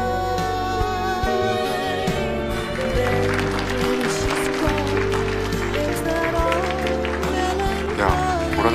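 Sustained applause from a wedding ceremony audience, steady and continuous, mixed with loud music playing throughout.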